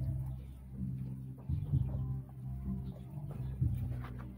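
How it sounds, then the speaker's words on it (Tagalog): Heritage chickens on a farm in Mangaldan, Pangasinan give soft, close clucks in short bursts at a low level over quiet farmyard background. "Yung mga manok ko talaga maamo."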